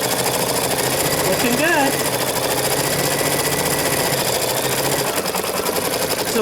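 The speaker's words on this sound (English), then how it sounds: "So I am going to hoop this in my machine and stitch it out." An embroidery sewing machine stitching out fabric earrings runs as a loud, steady mechanical whirring and rapid clatter throughout, with a brief remark spoken over it.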